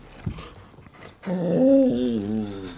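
Puppy dog sitting on a lap gives a few soft low grumbles, then a drawn-out, rising whimpering whine up close, with no speech.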